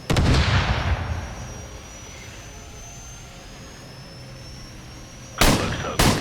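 A Stinger missile launches at a jet in Call of Duty 4: a loud blast opens, trailing into a long roaring rumble of engine and rocket noise, with two further sharp bursts near the end.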